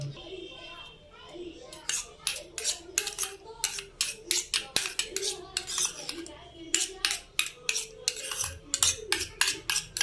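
A spoon scrapes and clinks rhythmically against a bowl while ketchup, mayonnaise and chilli sauce are stirred together into a sauce for an egg roll, the quick strokes close and steady with a voice faintly in the background.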